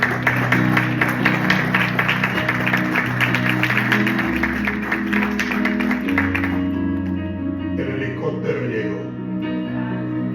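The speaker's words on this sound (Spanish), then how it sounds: "Den un aplauso al Señor, amado" A church congregation claps during a worship service, sustained applause from a crowd blended with loud music and held tones, then thinning toward the end.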